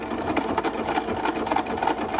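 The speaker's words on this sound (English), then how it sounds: "I don't have a serger, so this is like basically faux serging my edges." A sewing machine stitches along fabric edges in a zigzag faux-serging pass, a fast steady mechanical whir heard up close for a couple of seconds with no talking.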